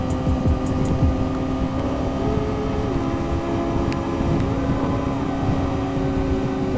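A motorcycle cruises on the highway, its engine holding a steady loud drone with a slight pitch shift midway, wrapped in constant wind rush and no talk.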